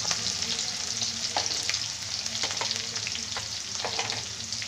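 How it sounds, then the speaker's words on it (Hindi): Close, steady sizzling of chopped tomato frying in a pan, with repeated scraping and clinking as a utensil stirs it. "इसको चटकने के बाद इसमें ऐड करेंगे हम टमाटर।"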